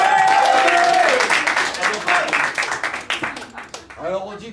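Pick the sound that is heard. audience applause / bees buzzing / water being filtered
audience applause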